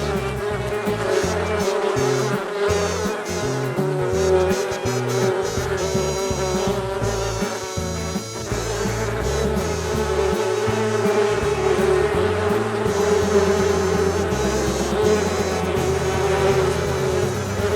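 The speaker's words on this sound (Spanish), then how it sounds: "las abejas que llegan a picar" Honey bees buzz in a dense, continuous drone at an apiary, with worker bees swarming close by, layered with a steady low hum and some mechanical background noise throughout.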